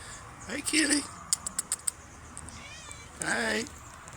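A cat meows twice nearby, short plaintive calls separated by a few light clicks and taps, with a quiet voice in between.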